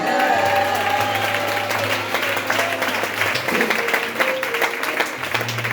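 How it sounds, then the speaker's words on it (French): A church congregation applauds and cheers in praise, a loud, dense wash of clapping and voices that runs continuously, with a low sustained musical tone from a keyboard or organ underneath. "Tu peux me dire Amen et acclamer le Seigneur."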